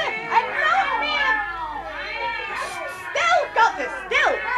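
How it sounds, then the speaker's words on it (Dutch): Many cats meowing over one another in a busy, overlapping chorus of rising and falling cries, close and loud, with a voice speaking among them. "Stil, katten, stil!"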